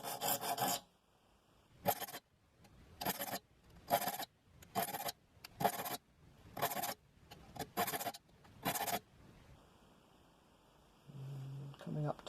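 A hand saw being sharpened and re-toothed with a file, heard as about eight separate rasping strokes, each around half a second long, at a steady rhythm and close by, with quiet gaps between them.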